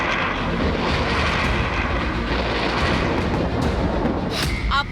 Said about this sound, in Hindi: लड़ाकू विमानों की हुंकार से थर्राया तालिबान।